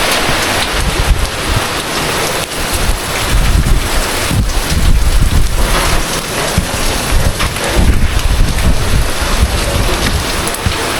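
Strong wind gusts buffet the microphone in rainy Baguio City, a continuous loud rushing roar rising and falling in surges throughout, with no voices.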